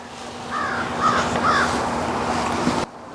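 A crow caws a few times in a winter garden after a storm, the calls fairly close and clear over steady outdoor wind noise, with no talking.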